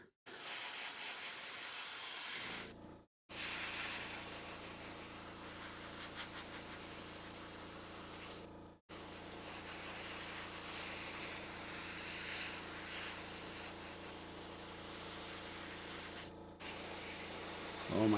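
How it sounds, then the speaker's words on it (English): Primer spraying from a spray can onto a spider model, a steady close hiss lasting many seconds and broken by a few short pauses between bursts. "I may not be done priming this by 5:30 or 6."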